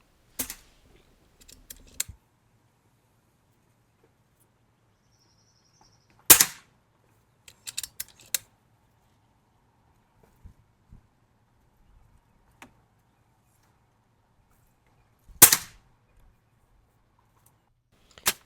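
Air rifle fires pellets while a Vector Optics Veyron 6-24x44 scope is sighted in: several sharp, isolated cracks spread across a quiet background, some single and some in quick clusters, with faint small clicks in between.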